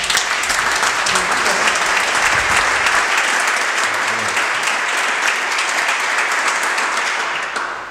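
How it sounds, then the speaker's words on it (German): A lecture audience in Wuppertal gives sustained, dense applause lasting several seconds, loud and steady before tapering slightly at the end, with no speech over it. "Ein Applaus."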